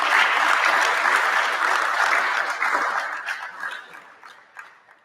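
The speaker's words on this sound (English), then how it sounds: "can you please give all of our funders a big round of applause for making this happen?" An audience at a startup demo day gives a sustained round of applause for the funders, loud and dense at first, then thinning and tapering into scattered claps near the end.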